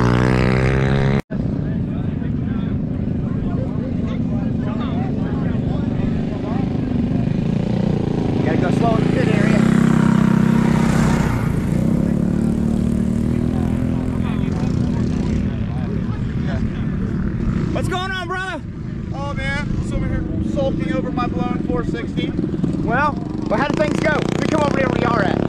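Go Power Sports 460 race engine running loud and steady at high revs through the whole stretch, a continuous mechanical drone with voices talking over it.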